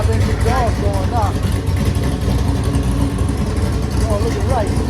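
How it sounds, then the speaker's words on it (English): Turbocharged car engine with a 5-inch exhaust idling at a dense, steady low rumble after long storage, with brief sweeping whistles riding on top and a voice talking over it. "Got that 5-inch exhaust going now."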